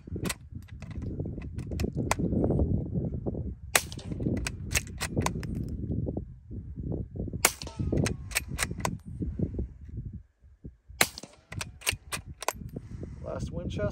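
A Christensen Ranger 22 rifle fitted with a Nelson Precision Little Spoon .22lr silencer fires Winchester rounds, giving sharp suppressed cracks spaced several seconds apart, with bolt handling and low rumbling between shots.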